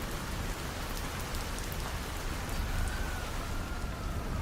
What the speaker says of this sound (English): It had been coming down for hours, a steady rhythm against the windows